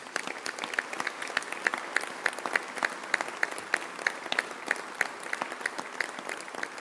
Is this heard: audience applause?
yes